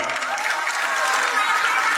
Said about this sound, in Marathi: आपासाठी जरा टाळ्या करा सर्वांनी